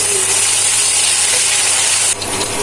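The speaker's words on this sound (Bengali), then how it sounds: "আমি মশলাটা ভালোভাবে ভেজে নিয়েছি" A spice paste of garlic, ginger and cumin fries in a pan for potato curry, a loud, steady, close sizzling hiss that holds throughout and dips briefly near the end, with no voices.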